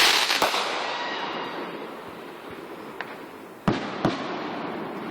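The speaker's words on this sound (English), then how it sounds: "I'm glad this isn't like a real fireworks show." Fireworks burst close by in a loud opening volley, then a hissing, crackling tail fades before two more sharp, isolated bangs ring out near the end; no voices.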